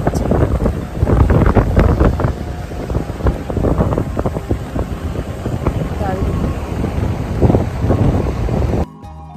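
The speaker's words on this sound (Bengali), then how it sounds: "হাওয়া দিচ্ছে," Strong gusts buffet the microphone beside the fast-flowing Kuti river in the mountains of Uttarakhand, roaring loud and close in uneven bursts with a voice faintly underneath, then cutting off abruptly at the end.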